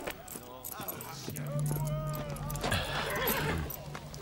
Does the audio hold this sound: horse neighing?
yes